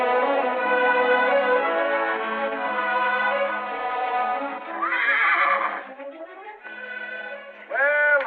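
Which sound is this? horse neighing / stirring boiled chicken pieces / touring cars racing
horse neighing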